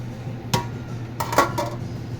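A metal lid is set onto a cooking pot of squash, giving a sharp clank followed by a couple of quick clinking knocks close by.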